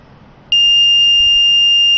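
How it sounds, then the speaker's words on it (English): A sudden steady high-pitched electronic buzzer tone starts and holds continuously, loud and close. "Buzzer on."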